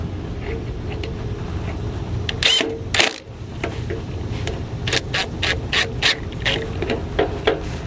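Ratcheting clicks of a torque wrench tightening bolts during a fender replacement on a Mk V Jetta TDI, with a burst of rapid clicks early on, a pause, then a steady run of repeated ratchet strokes close up.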